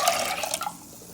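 Leftover strained moringa leaf water is poured into a pot of soup, a brief close splash of liquid that fades after under a second.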